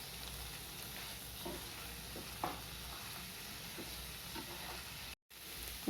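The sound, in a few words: stirring paneer into creamy pasta in pan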